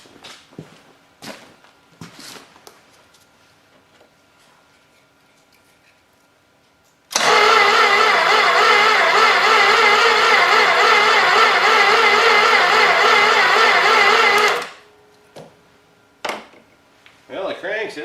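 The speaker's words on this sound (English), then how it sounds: "see if it'll crank this thing over anyway" A 318 engine cranks over on its starter through worn jumper cables, giving a loud, steady churning burst of about seven seconds that stops abruptly. Quieter knocks and handling noises come before and after it.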